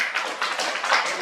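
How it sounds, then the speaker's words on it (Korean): A brief burst of audience applause at a training session for a city council monitoring group in Dongducheon, South Korea: a soft, dense patter of many hands clapping, fairly distant and even. "박수 한번 보내주세요"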